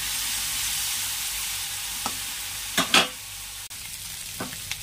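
Prawns and mushrooms fry in hot oil with a constant, even sizzle, a few soft utensil taps and scrapes cutting through briefly, with no talking.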